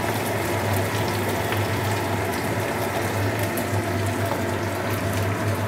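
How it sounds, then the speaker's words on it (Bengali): Chopped raw onions drop into hot oil in a home kitchen pan, a steady loud sizzle that stays level and continuous across the whole stretch, heard on its own. "এবার আমি দুটো ছোটো ছোটো কাঁচা পেঁয়াজ কোচানো ছেড়ে দিলাম।"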